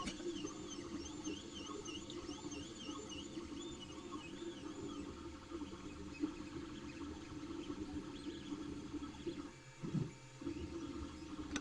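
An Ender 3 3D printer at work, its stepper motors whining in warbling, rising and falling tones over a constant mechanical hum, steady and fairly quiet throughout with no talk.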